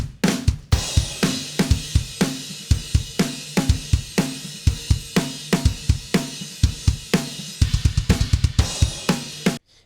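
Metal snare drum within a full mix, played in a steady rapid pattern of sharp, loud hits over dense distorted guitars and cymbal wash, repeated as a before-and-after comparison of compression.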